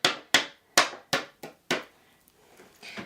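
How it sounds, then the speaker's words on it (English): An embossed paper craft panel flicked sharply to shake off excess embossing powder gives six crisp, close tapping snaps in quick succession, then a softer scuffing rustle at the end. "I'm going to give that a nice flick just to take off the excess."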